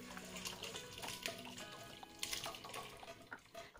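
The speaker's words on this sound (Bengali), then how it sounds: "ছানা ছেঁকে নিচ্ছি।" Curdled chhana, made by splitting milk with lemon, strained for a sweet recipe as whey water trickles and drips steadily and close by, with no talk over it.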